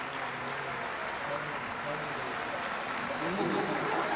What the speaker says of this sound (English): So please welcome them for a warm round of applause